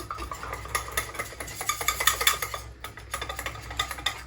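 A whisk stirs supplement powder into hot water in a container, giving a quick run of rapid, light clinking and scraping strokes up close, fairly steady with brief pauses.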